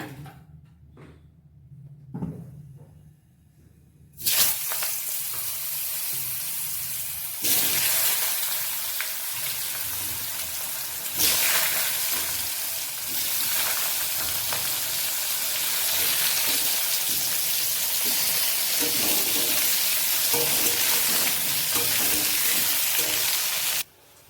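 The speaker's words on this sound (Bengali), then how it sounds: "বেগুনটা একটু ভেজে নেব।" Eggplant pieces fry in hot oil in a pan, a dense, continuous sizzle that flares up in stages as more pieces go in, then holds loud and steady for most of the stretch.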